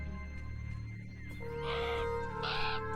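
Crows caw in the Beyond Eyes video game, two harsh bursts a moment apart over a steady low background hum, fairly close and clear with nobody talking.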